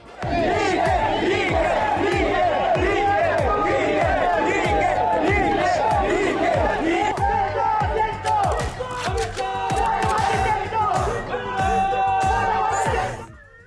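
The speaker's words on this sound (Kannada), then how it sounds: "ಎಂಎಲ್ಸಿ ಐವಾನ್ ಡಿಸೋಜಾ ನೇತೃತ್ವದ ತಂಡ ಸಿದ್ದರಾಮಯ್ಯ ಪರವಾದ ಘೋಷಣೆ ಮೊಳಗಿಸಿದ್ರು" Congress party workers led by MLC Ivan D'Souza chant political slogans for Siddaramaiah, a dense crowd shouting in a steady rhythmic cadence, loud and close throughout before cutting off at the end.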